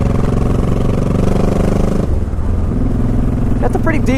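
A motorcycle with ape hanger handlebars and a windshield rides on a wet road, its engine droning loud and steady throughout, dipping briefly midway as the rider eases off through corners, while someone talks over it.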